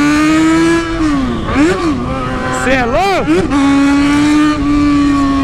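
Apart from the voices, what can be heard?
motorcycle engine revving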